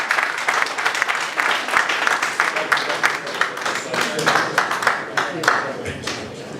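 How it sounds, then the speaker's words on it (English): Sustained applause from an audience, dense clapping that swells and continues steadily throughout, fairly close and loud. "A round of applause."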